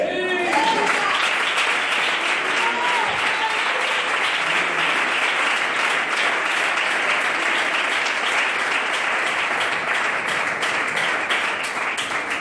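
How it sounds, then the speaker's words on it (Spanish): A church congregation applauds God during a sermon on salvation, dense, continuous clapping at full strength for the whole stretch, with a voice briefly heard over it at the start. "¿Quieres aplaudirle?"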